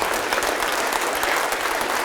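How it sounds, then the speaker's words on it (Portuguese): A church congregation claps in praise, a close, dense and steady round of applause filling the space without pause. "vamos aplaudir ao nome do Senhor"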